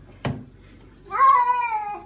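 A pet cat lets out a short sharp sound, then a loud, drawn-out meow up close, a single tonal wail lasting under a second against a quiet room.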